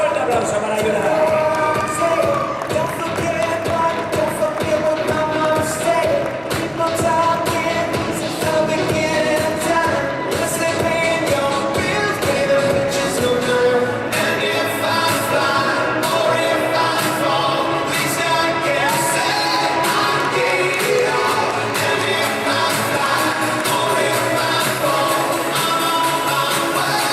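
Loud, dense crowd noise at a cosplay catwalk in Valencia, with clapping, cheering and yelling running continuously and mixed with voices and background music.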